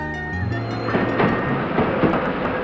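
A train rumbles past up close, its loud, steady roar carrying rhythmic clatter, with a faint tone fading out at the start.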